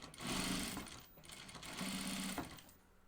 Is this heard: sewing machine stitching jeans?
yes